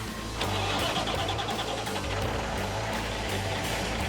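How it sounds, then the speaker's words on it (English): An outback truck's engine cranks and catches, then runs roughly with an uneven, pulsing low rumble and clattering, close and steady for a few seconds. "The truck's running just a little bit sick at the moment."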